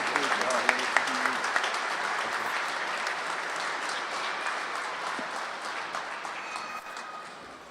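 An audience applauds steadily to welcome the South African ambassador at a Mandela award ceremony honoring an ILWU labor leader, a dense roll of clapping that fades slightly toward the end, with voices faintly mixed in.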